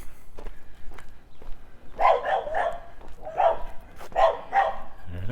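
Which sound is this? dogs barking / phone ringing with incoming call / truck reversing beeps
dogs barking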